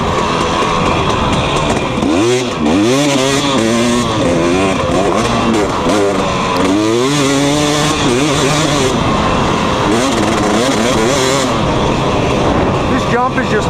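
A 250cc two-stroke dirt bike is ridden hard; its close, loud engine climbs and drops through repeated revs and shifts, over steady wind noise.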